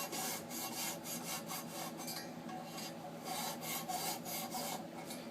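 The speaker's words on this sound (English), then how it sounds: "hone the edge, to sharpen the edges" A hand file rasps around the cutting edges and flutes of a sampler, sharpening them in quick, steady back-and-forth strokes that run continuously at close range with no talking.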